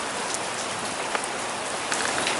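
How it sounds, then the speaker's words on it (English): Steady rain pours down after a severe thunderstorm that brought hail and flash flooding, a dense, even hiss of drops on surfaces with no pauses, close and fairly loud. "We're just having regular rain."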